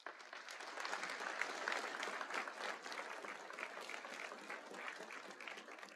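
An audience at a college commencement ceremony applauds with steady, dense clapping that holds at an even level throughout, heard from a moderate distance.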